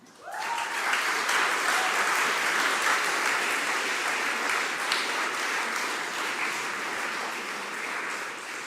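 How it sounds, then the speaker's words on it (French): An audience at an event in a historic building breaks into sustained applause, a dense, even clapping that starts abruptly and stays strong before easing slightly. "Donc rien que pour elles, je voudrais vraiment des applaudissements."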